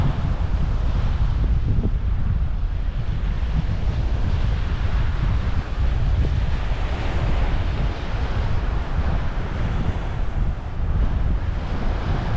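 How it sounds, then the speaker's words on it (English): Strong wind buffets the microphone with a constant low roar, mixed with a steady wash of surf on a rocky shore in Winthrop, loud and unbroken throughout. "It's very windy."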